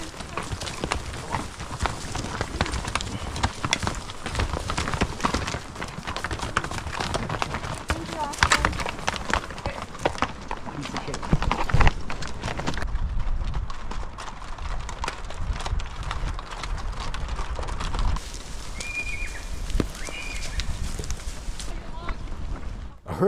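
Herd of horses moving along a narrow trail through thick timber, hooves clattering and thudding continuously amid brush and wind noise, with a voice narrating over them.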